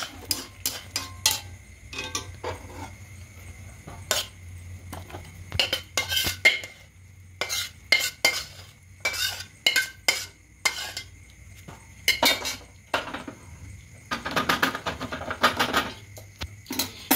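A spatula clatters and scrapes against a pan while chilli soybean is stirred and mixed, giving irregular bursts of sharp metallic knocks with short quiet gaps, close and fairly loud, no talking.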